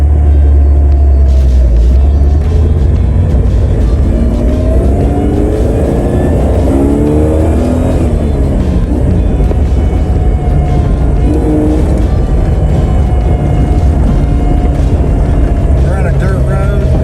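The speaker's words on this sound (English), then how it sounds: "Let's go ahead and drive it a little bit." Jeep fitted with LED headlights driving on a dirt road at night, a loud steady engine rumble and road noise throughout, with a voice talking over it.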